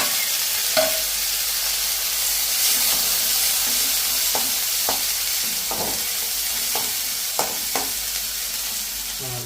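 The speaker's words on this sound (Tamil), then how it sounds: "நம்ம நறுக்கி வச்சிருந்த வெங்காயத்தை அதில் போட்டுக்கோங்க" Continuous loud sizzling of chopped onions frying in hot oil, with occasional soft clinks and scrapes of stirring throughout.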